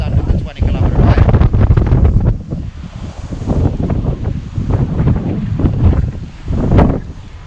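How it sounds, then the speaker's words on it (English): Strong wind buffets the microphone outdoors during an electric unicycle ride at a skate park, a loud, continuous low roar with gusts that swell and ease throughout. A voice can be heard faintly under the noise. "That wind though."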